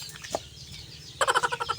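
Chickens cluck nearby, one soft note and then a quick run of rhythmic clucks near the end.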